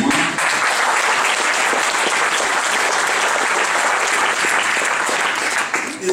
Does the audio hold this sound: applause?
yes